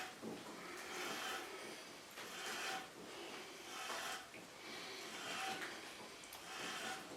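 Metal tap cutting threads by hand, turned with a tap wrench in steel for a motorcycle shock tool: steady raspy scraping strokes rising and fading in a slow repeating rhythm, close and moderately loud.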